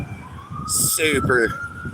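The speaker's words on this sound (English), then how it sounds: "Ambulance chasing." An ambulance siren wails past on a downtown street, its rising tone sweeping loud for about a second over steady traffic and street noise.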